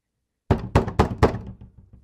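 Four loud, evenly spaced knocks on a wooden door at a south entrance, each thud ringing briefly after a moment of silence, then a faint trailing rumble.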